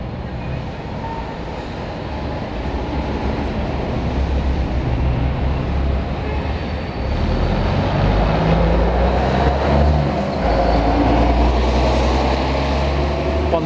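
A London bus, L154, idles while loading on route 197 to Norwood Junction in Croydon in 1999, its engine a steady, close low rumble that swells slightly midway with no voices over it.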